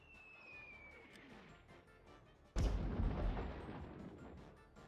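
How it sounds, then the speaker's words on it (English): Mortar artillery fire in Warhammer: Dark Omen: a descending whistle of an incoming shell, then a heavy, sudden impact boom at about 2.6 seconds that crashes loudly and slowly fades under a rumbling background. "I just want to like get like a lucky mortar hit in and just kill him instantly"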